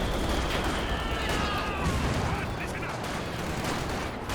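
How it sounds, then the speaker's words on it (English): Machine gun fire in the real-time strategy game Company of Heroes 2, with Maxim and MG42 guns in a 2v2 match, sounds as a steady dense crackle of gunfire and distant blasts throughout, mixed with background battle noise. "Especially if you're up against double machine guns, as he has been most of this game."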